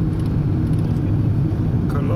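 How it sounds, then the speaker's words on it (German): A car engine labors at low speed on a steep climb up a high mountain pass, a steady close rumble running under speech inside the vehicle. "wir werden jetzt etwas langsamer fahren. Aus dem einfachen Grund, weil das Auto nicht mehr schafft."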